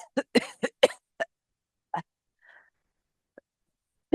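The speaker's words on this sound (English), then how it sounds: "I want you to cough out all of that water that you inhaled, that you swallowed." A person coughs repeatedly after inhaling water, a quick burst of close, dry coughs followed by a few spaced single coughs and quiet throat noises, with no talking.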